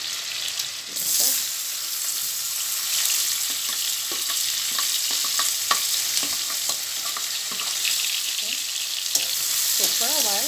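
Onions fry in a pan of oil left from deep-frying chicken, making a continuous loud hiss and sizzle with irregular scraping and clicking as they are stirred, close up, with no talking.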